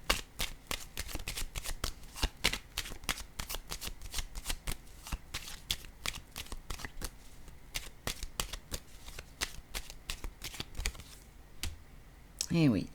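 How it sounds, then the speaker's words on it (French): A deck of cards is riffled and shuffled close by, with rapid crisp flicking and a card being drawn, under soft speech. "Je vais piger une autre carte pour la mère."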